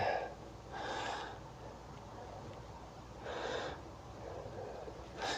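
Breathing during a yoga session, three slow, audible breaths, each a soft rushing exhale spaced a couple of seconds apart, close and without speech.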